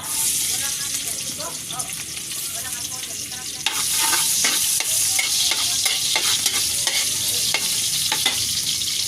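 Ginger sizzles in a hot pan for native adobo, a loud steady hiss with stirring and scraping clatter that grows louder and busier partway through, with some faint background voices.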